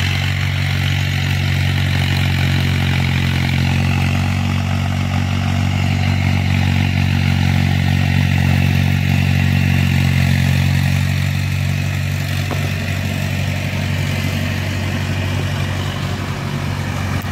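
A motorcycle idles in neutral on its stand outdoors beside farm fields, a steady loud low engine rumble with light clatter running unbroken throughout, no talk.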